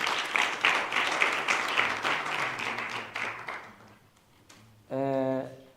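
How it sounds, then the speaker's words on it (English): Audience applause at a media and sustainability summit, a broad wash of clapping for the first four seconds that fades out, followed by a short burst of other sound. "And I think you deserve a round of applause"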